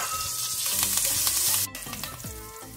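Dried red chilies and curry leaves sautéing in hot oil for sambhar: loud, steady sizzling and crackling with scattered pops, close up, and a brief clatter of stirring midway before the frying settles slightly quieter.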